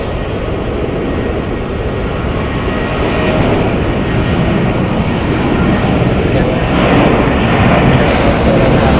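A Southwest Airlines jet departing Phoenix Sky Harbor Airport gives off a loud, continuous broadband roar that swells slightly as it goes on.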